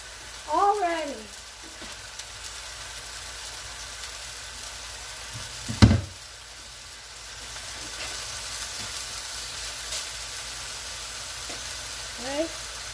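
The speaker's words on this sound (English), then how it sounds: "Let that sear real well." A chuck pot roast sears in a pan with a soft, steady sizzle under room noise, broken by a sharp clatter near the middle and a few faint squeaks.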